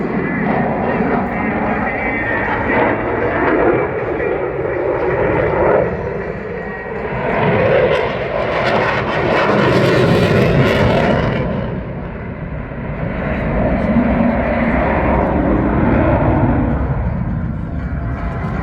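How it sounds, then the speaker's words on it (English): A Eurofighter Typhoon jet at the RIAT air show accelerates and brakes hard, a loud, roaring engine that surges and swells in waves with a broad rumble, while a commentator talks over it. "Accelerating back out of the lift towards you, Adam will brake hard"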